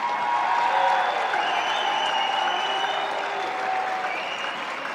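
Applause for a high school's 2026 signing day class in an arena, a sustained crowd wash of clapping with some cheering mixed in, steady and fairly loud throughout.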